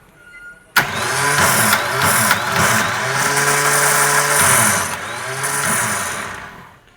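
An auto rickshaw's self starter motor is run straight off a battery wire on the bench, starting with a sharp onset and then whirring and grinding steadily for about six seconds before it slows and fades out.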